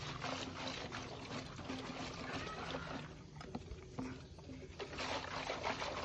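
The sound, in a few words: vinegar sloshing inside Honda C70 fuel tank being shaken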